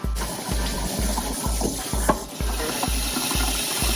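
Dirty aquarium filter parts rinsed under running water, with a steady splash of flowing water and regular low thumps about every half second, close and alone.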